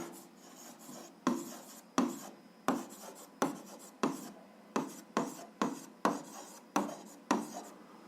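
A pen writes an algebra answer by hand on paper in a string of short scratchy strokes, about a dozen quiet bursts, close and soft, with no talk.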